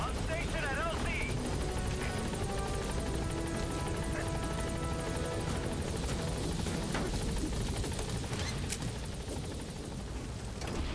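A helicopter in the video game Metal Gear Solid 5 gains altitude, a steady loud whirring rotor drone that runs the whole time beneath occasional game effects.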